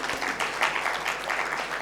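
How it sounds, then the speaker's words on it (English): An audience at a Kenyan speech event breaks into applause, a dense, steady wash of many hands clapping at moderate volume for about two seconds, with no voices on top. "I think we need to give ourselves a clap."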